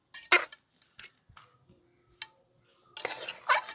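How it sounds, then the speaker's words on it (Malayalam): A spoon mixing raw beef with turmeric, salt and pepper powder in a bowl: scattered soft scrapes and clinks of metal against the dish, a few louder bursts at the start and end, close and otherwise quiet. "എന്നിട്ട് നമുക്ക് നന്നായിട്ടൊന്ന് മിക്സ് ചെയ്ത് കൊടുക്കാം."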